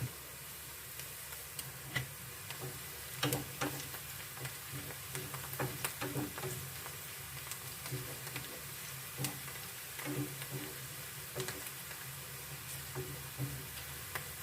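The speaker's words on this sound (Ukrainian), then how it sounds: "цибулька вже підсмажується, стає от такого кольору" Steady, soft sizzling of onion frying in a pan, with faint scattered ticks and pops throughout, no voices.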